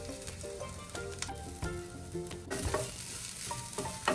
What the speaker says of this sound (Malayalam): ഇത് നല്ലോണം ഒന്ന് ഫ്രൈ ചെയ്തെടുക്കുന്നുണ്ട്